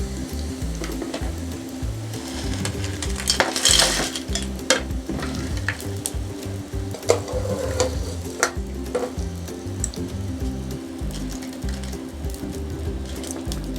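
Homemade potato chips frying in hot oil, a steady close sizzle with occasional clinks of a utensil against the pan throughout.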